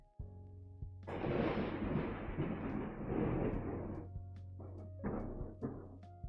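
Thunder from a lightning storm: a long, broad rumbling roll lasting a few seconds, followed by a few shorter, fainter rumbles over a steady low hum.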